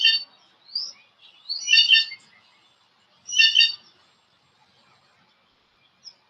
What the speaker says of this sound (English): I've never heard that bird sound before.